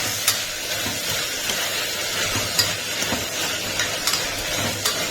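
Sliced onions fry in a pan for potato masala to go with poori, a steady close sizzle and hiss with occasional scraping stirs, no voices.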